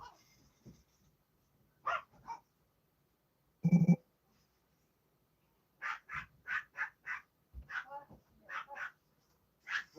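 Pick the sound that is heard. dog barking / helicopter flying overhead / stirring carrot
dog barking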